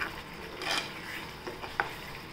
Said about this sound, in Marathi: हे आपण तेल सुटेपर्यंत परतायचं, म्हणजे तो कांदा, लसूण आणि टोमॅटो ते शिजणार